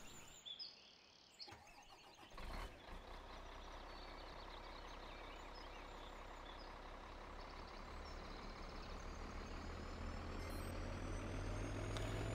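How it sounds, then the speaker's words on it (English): A truck engine in Farming Simulator 2013 on an Iowa farm map, a steady droning rumble that starts rough, then settles and grows gradually louder over several seconds with no talking. "This truck is slipping."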